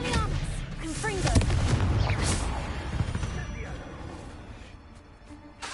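In the video game Hogwarts Legacy, a Confringo blasting spell gives booming, crackling explosion bursts amid loud combat effects. The noise swells early, then trails off into rumbling debris. A voice can be heard speaking over the fight.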